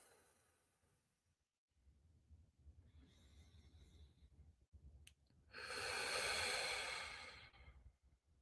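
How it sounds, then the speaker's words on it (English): Deep breathing exercise: a soft inhale through the nose, a pause, then a louder, longer breathy exhale through the mouth, close and without speech. "we're going to breathe in through our nose, out through our mouth"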